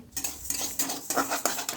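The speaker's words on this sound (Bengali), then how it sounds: "মুগ ডালটা একটু ভেজে নিচ্ছি।" Dry moong dal being stirred in a pan, with a steady run of scraping, rattling strokes from the spoon against the metal, close and fairly loud, with no voices.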